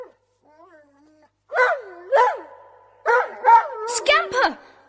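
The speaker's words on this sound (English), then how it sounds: "flung itself on top of Peter, whining in delight." An excited dog whines and yips in a rapid string of rising, quavering cries after a brief hush.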